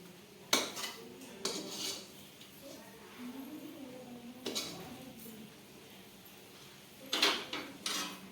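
Sweet mixture scraped out of a kadai into a greased tin, with a few sharp metallic clanks and scrapes of spoon against pan spaced out over quiet background.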